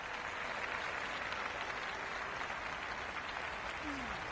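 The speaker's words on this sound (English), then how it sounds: "It's almost palpable, the excitement emanating from this crowd at the moment." A stadium crowd at a cricket match in the video game Cricket 26 keeps up a dense, steady wash of cheering and applause throughout, with a commentator's voice faintly beneath it.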